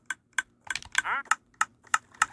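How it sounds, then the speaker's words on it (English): Minecraft dispenser clicking in a repeating pattern, sharp regular clicks roughly every third of a second, with a brief whooshing sweep in the middle, close and clear with no talking. "if we connect that to a dispenser right here, if I can, come on, then you hear it start clicking"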